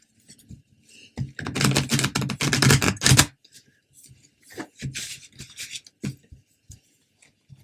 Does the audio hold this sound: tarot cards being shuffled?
yes